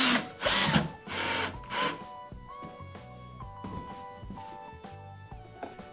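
Power drill driving screws through Velcro into a coroplast camper vestibule, with short bursts of whirring motor and a steady tonal drone, close and moderate.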